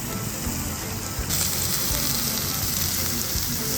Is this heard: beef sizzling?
yes